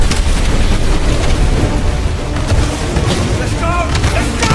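Incoming fire-support explosions in a Call of Duty Modern Warfare battle, a continuous heavy low rumble of blasts and booms that fills the whole stretch, with a voice speaking faintly under the barrage.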